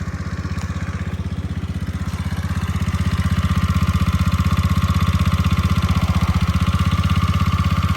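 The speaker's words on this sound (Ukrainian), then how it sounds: "Гарно працює двигун." A Honda Dio AF68 scooter engine idles steadily up close, a fast even putter with light mechanical clatter, growing slightly louder partway through.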